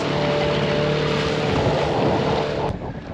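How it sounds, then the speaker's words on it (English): Dinghy outboard motor droning steadily while the small boat rides across choppy anchorage waves, heavy wind buffeting the microphone, loud and continuous with a brief dip near the end. "Our dinghy hits every wave."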